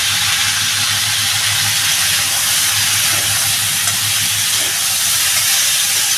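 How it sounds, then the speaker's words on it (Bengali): Tilapia fish curry frying in a pan with salt and turmeric, giving a steady, loud hiss and sizzle that continues without a break and without talk. "একটু একটু ভেজে নেবো ভালো করে"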